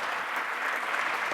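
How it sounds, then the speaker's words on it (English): An audience at a question session with Aung San Suu Kyi gives a steady burst of clapping, dense and even throughout, with no speech over it. "How about another round of applause for Aung San Suu Kyi?"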